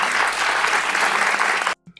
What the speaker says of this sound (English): You got people actually clapping